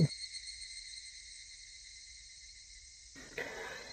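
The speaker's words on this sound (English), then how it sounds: "cicadas in the distance" Cicadas chirp in the distance in a visual novel video game, a steady high-pitched drone that stops abruptly near the end.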